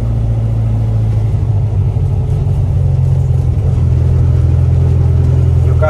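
Modified 1966 VW Beetle with a naturally aspirated, fuel-injected 2100 engine, heard up close as a deep, steady rumble that picks up with mild revs partway through, with no talking.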